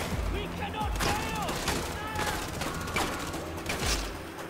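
Sustained gunfire in Far Cry 4, repeated shots cracking over a dense wall of battle noise, with someone talking throughout.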